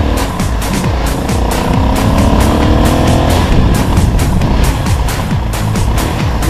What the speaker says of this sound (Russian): Сейчас будем проезжать офигенный тоннель, в котором можно погазовать